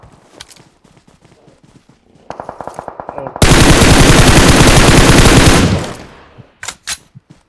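Gunfire in the mobile game BGMI: scattered single shots and short bursts, then a sustained, very loud automatic weapon stream lasting a couple of seconds, followed by a few more isolated shots, all close and sharp.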